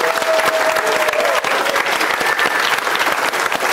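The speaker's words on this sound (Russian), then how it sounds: "Аплодисменты." Studio audience breaking into loud, sustained applause, dense crisp clapping from many hands that stays steady and close throughout, with a faint tonal whistle briefly riding over it.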